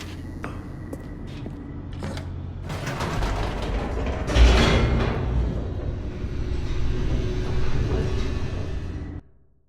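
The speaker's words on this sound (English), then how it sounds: "The elevator raced downward, plummeting towards an unknown fate." An elevator descending in the video game The Stanley Parable: a loud mechanical rumble with creaking, ratcheting gear and pulley noises that swells midway, continues steadily, then cuts off abruptly.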